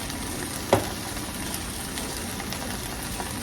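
Corn frying in a pan over medium-high heat, a steady close sizzle and crackle with one brief click, no voices.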